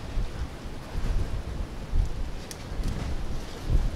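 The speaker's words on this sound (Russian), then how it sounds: "ветер такой страшный" Strong gusty wind in a storm near a house in the south, buffeting the microphone in low, uneven rumbling surges with brief brighter bursts, no speech.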